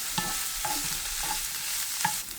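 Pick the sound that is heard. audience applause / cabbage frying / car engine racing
cabbage frying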